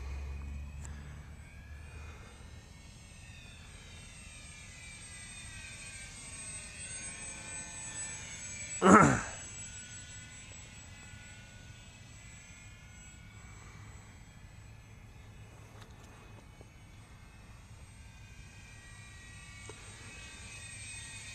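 A small Airfield Sky Trainer 182 RC airplane drones steadily in flight, its engine a continuous distant whine with a brief louder swell partway through as it passes nearer.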